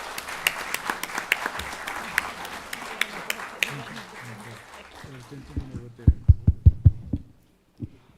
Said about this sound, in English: a big round of applause for this wonderful panel